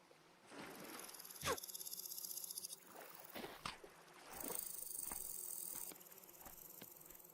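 Bees buzzing in the game Vintage Story near a cave, a steady, fairly quiet drone that fades in and out, broken by a few brief clicks, with no voices.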